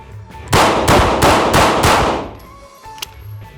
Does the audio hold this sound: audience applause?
no